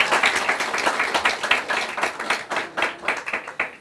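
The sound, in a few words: audience applause, clapping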